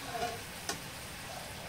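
Meat for a bean stew sizzles softly in a pan, a faint steady crackling hiss with a single sharp tick partway through, close and quiet with no talking.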